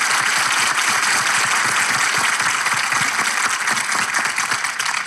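Studio audience applause on a Turkish relationship quiz show, a steady, dense wash of many hands clapping that holds loud and even throughout with no voices.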